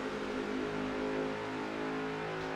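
Loud, dense roar of race car engines revving at high pitch at Pocono, a continuous buzzing wall of sound with no voices.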